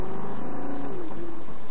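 A Lamborghini Gallardo supercar on a driving course, its engine droning loud and steady with a rising then shifting pitch as it accelerates, close and continuous.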